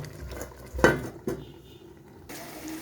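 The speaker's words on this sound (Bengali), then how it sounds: "এবার আমি ঢেকে দেব" A metal lid is set onto a cooking pot of mixed vegetables simmering in a little water with tomato, giving a clear clank followed by a softer knock against a quiet kitchen background.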